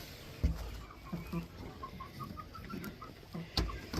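Chickens cluck softly and intermittently inside a coop holding nineteen birds and five nesting boxes, with scattered low knocks and rustles around them during afternoon chores.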